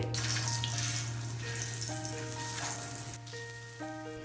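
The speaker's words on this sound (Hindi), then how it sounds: "उनके लिए पहले डाला जाता है तवे पे तेल और फिर तेल में डाले जाते हैं ये पराठे सिकने के लिए" Chandni Chowk-style mooli parathas fry in oil on a tawa, a steady broadband sizzle heard beneath background music with a droning tone and melodic notes, and no talking.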